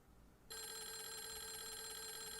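Electronic telephone ringing in the video game Clock Tower: The First Fear, a sudden steady trilling ring that starts after a brief quiet moment and continues unbroken at moderate volume.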